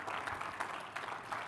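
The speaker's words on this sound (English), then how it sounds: "Let's clap for them, please." Audience at a career fair session claps briefly, scattered hand claps with a soft uneven rhythm, fairly faint and distant.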